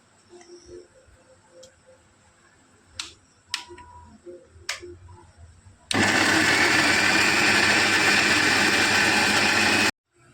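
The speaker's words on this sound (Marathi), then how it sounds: "हे जे आपण वाटण म्हणजे वाटण करून घेऊ आता आपण मिक्सरमध्ये" A kitchen mixer grinder blending roasted masala paste for a chicken curry, whirring loudly and steadily for about four seconds after some light clicks and handling taps, then stopping abruptly.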